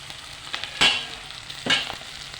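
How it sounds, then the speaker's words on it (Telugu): Green chillies fry in a pan for a simple okra and tomato curry, a soft steady sizzle with two brief louder hissing bursts as they are stirred, close and alone without talk. "పచ్చిమిర్చి ఇలా మెదుక్కున్న తర్వాత ఇవి వేగనిద్దాం"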